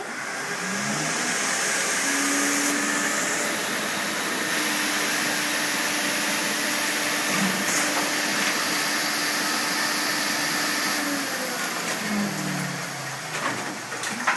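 A Horizon Vac 100 collating machine test-running with sheets of paper gives a steady, loud mechanical whirring and droning hum that holds evenly throughout, with faint rhythmic clicks underneath and no speech.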